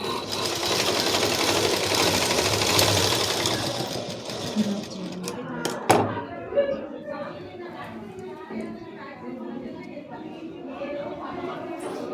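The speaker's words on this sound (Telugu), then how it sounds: "ఇది ఎలాస్టిక్తో పాటు సైడ్ జాయింటింగ్ మడుచుకొని కుట్టు వేసుకోవాలి." A sewing machine stitches a cloth mask with elastic, its fast whirring run loud at first, then stopping, followed by quieter handling and someone talking.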